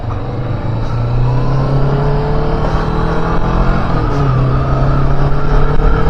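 A 2023 Kawasaki Vulcan S with a 649cc engine is ridden, a steady loud engine drone with shifting pitch and wind rumble, continuous and close from the rider's position.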